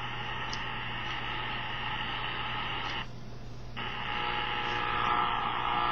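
Shortwave static hisses from a Sony ICF-SW7600GR radio tuned to 5 MHz, a steady wash of broadband noise over a low hum, briefly dipping partway through before resuming, with no signal or voices.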